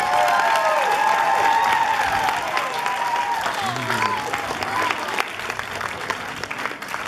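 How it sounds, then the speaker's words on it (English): A convention crowd at an anime dating-game panel claps in a full round of applause that tapers gradually, with voices and some cheering audible over the clapping. "Let's give everyone a quick round of applause."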